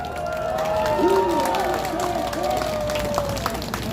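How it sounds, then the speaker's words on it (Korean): A crowd at a political rally claps and cheers together in a sustained, fairly loud wash of applause, with raised voices and shouts rising above it. "우리 옆에 계신 분들한테 서로 박수 한번 쳐주세요"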